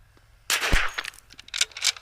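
Sharp rifle report from a Bergara B14r rifle firing Eley Match ammunition at a 50-yard benchrest range, one loud crack followed by echoing clatter and a few smaller knocks as it fades.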